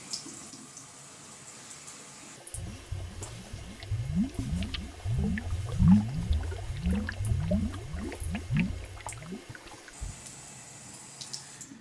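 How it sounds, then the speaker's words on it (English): Well water running from a tap into a sink, a close splashing, gurgling flow that starts abruptly and stops near the end, fairly quiet, with no talking. "The next step is to run the water for 2 to 3 minutes."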